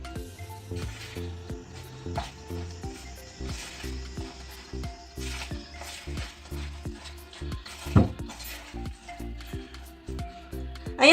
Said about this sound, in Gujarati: આ ડ્રાય ફ્રૂટ્સ જે આપણે પલાળી રાખેલા હતા એ લઈ લઈએ અને મિક્સ કરી લઈએ